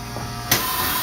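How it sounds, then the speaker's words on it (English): Rotary screw air compressor on an ozone injection trailer, a steady loud mechanical hum with a sudden hissing surge of air partway through, heard up close. "So this is your rotary screw compressor."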